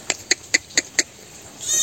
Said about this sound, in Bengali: কিরে ছাগল